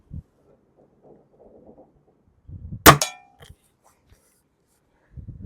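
A Weihrauch HW95k spring air rifle, a tuned special edition, fires once with a sharp, loud crack and brief metallic twang from the spring, set between faint handling noises and short near silence.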